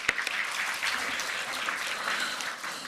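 Audience applause for session speakers at a fall research center meeting, steady dense clapping filling the room throughout with no voices over it.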